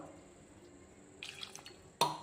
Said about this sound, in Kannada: ಈಗ ಸ್ವಲ್ಪ ನೀರು ಹಾಕಿ ಕುದಿಲಿಕ್ಕೆ ಇಡೋಣ